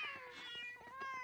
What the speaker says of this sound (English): And you know, Glenn, after you moved away, Buttercup had kittens.